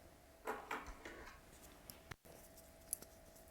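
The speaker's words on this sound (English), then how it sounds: "Going with the little Cigar scissors to give it a nice straight cut." A pair of quick, crisp scissor snips near the mic as cigar scissors cut a Hoyo de Monterrey Epicure No. 2 robusto cigar, followed by a few light clicks and a brief moment of silence.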